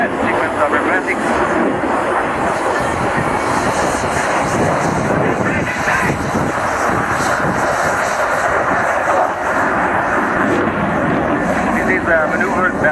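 An aerobatic aircraft rolling at high altitude over the Fairford airshow, a loud continuous engine roar drifting overhead with a public-address commentator talking over it.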